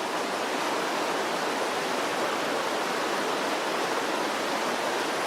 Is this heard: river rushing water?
yes